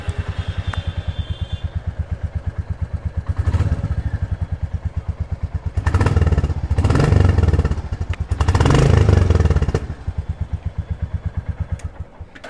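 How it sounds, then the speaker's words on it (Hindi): A 2024 Royal Enfield Bullet 350 Standard motorcycle idles with a steady thumping exhaust beat, then revs up three times in loud surges before settling back to the even idle thump, heard close by. "आप सुनते हैं इसका एग्जॉस्ट साउंड कि इस बाइक का एग्जॉस्ट साउंड कैसा रहने वाला है।"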